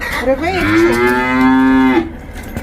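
A single long, loud cow moo, close by, rising then holding steady for over a second before cutting off.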